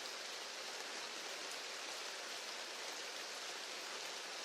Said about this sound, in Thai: ฝนตกเหรอ เอ้าตายแล้ว ตากผ้าไว้เนี่ย